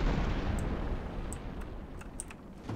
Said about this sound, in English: I have weapon swapping sounds and shooting sounds.